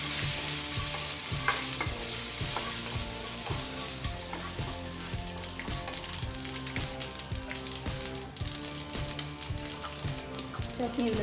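Curry leaves, urad dal and asafoetida sautéing in oil for okra chutney give a steady, dense sizzle with frequent spoon-scraping stirs over a rhythmic background beat, no talk.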